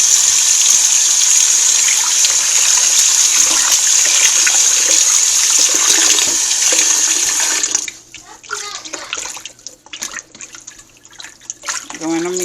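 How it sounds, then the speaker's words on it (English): Oxtail being washed with vinegar under a running tap: a loud, steady rush of water splashes for several seconds, then cuts off, and someone talks over softer drips and handling noises. "I'm washing my oxtail, so now I'm going to throw my vinegar."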